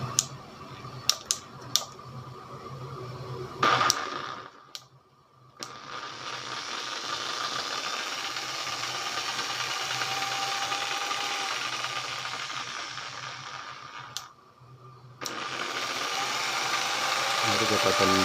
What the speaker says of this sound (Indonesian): sekarang kita akan coba menghidupkan mesin jigsaw ini. Kita coba pada kecepatan 1 dulu ya.